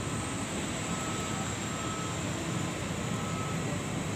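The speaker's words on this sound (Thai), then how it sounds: "จะเป็นเครื่องบินกำลังมาจากกรุงเทพนะคะ" An Air Asia airplane arriving from Bangkok gives off a steady, broad engine roar that stays even and fairly loud throughout, with no voices over it.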